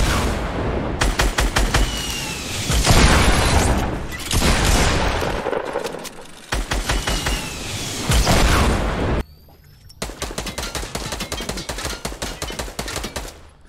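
Shotgun blasts boom repeatedly in a Fortnite Battle Royale match, loud and close, in dense bursts with heavy low thumps and brief pauses between volleys.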